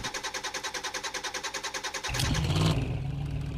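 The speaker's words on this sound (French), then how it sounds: "Ça ronronne, mon pote. Putain, il fait un bon bruit." Car engine in the video game Drive Beyond Horizons, idling with a rapid pulsing rhythm before revving up into a louder, sustained roar.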